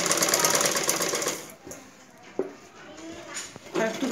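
A sewing machine stitches blouse fabric in a rapid, steady mechanical rattle, running in a longer burst at the start and a short one at the end, with a voice talking alongside.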